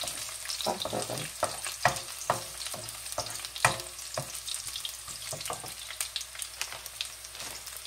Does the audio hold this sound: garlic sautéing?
yes